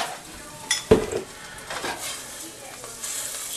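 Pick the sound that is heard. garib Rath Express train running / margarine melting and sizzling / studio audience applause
margarine melting and sizzling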